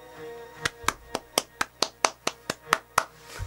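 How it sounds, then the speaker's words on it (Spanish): Twelve sharp hand claps ring out in a steady, fairly quick rhythm, close and distinct against a quiet background during the finale of Def Jam Fight For NY story mode. "Un aplauso, un aplauso."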